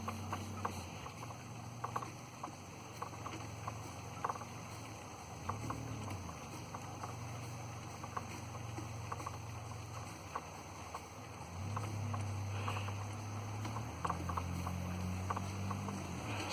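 A small Pomoczy Polish school steam engine runs on saturated steam at 27 pounds, a faint steady chuffing with rhythmic soft exhaust puffs and low tonal hums, quiet and without voices.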